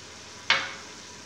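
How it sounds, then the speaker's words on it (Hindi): Chillies and spices hit hot oil with well-cooked onions, raising a sudden loud sizzle that bursts up and then slowly tapers into a steady hiss. "अब साथ ही मैं इसमें मिर्चें डाल दूँगी और मसाला भी साथ ही ऐड करेंगे"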